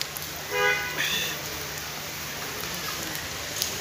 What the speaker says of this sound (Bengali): আমার খুব ভালো লাগছে বৃষ্টিতে ভিজে ভিজে বাইক চালানো।